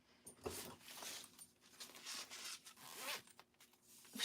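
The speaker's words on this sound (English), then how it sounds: "put your 2 zipper pulls on" Zipper pulls are fitted and slid along a zipper on a sewn bowler bag, giving a run of close, rasping zipping strokes in uneven bursts.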